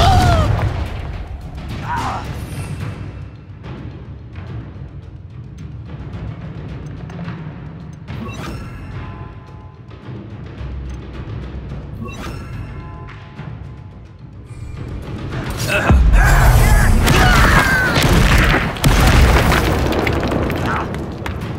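Confringo fire spell blasts in the Hogwarts Legacy video game, a loud booming burst that swells near the end amid busy game effects and a voice shouting at intervals.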